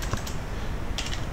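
Quick keystrokes on a computer keyboard entering a web address, a short close run of clicky taps with a brief pause midway, no speech.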